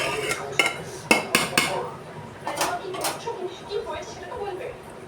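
A utensil stirs rice in a metal pot, making a series of clinks and scrapes in an irregular rhythm. Soft background noise continues between the strikes.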